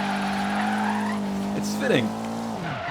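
In the Forza Horizon 3 racing game, a car holds a drift with a continuous engine drone and rising tire squeal, while players talk over it.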